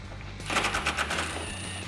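A pneumatic impact wrench with a 10mm socket hammers on a 2005-2009 Mustang headlight bolt, a close, loud rapid rattling burst of about a second starting after a short pause, then easing off.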